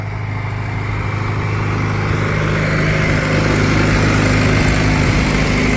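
A John Deere 7420 tractor engine, due for a radiator rebuild, runs with a loud, steady, close diesel drone that holds even throughout, with no voices over it.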